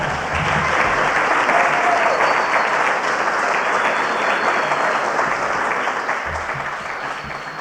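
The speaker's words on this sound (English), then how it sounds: "You can have 2 extra minutes for applause." Sustained applause from the audience at an Alcoholics Anonymous speaker meeting in Westchester, California, a dense steady wash of many hands clapping that holds loud for several seconds before slowly tapering.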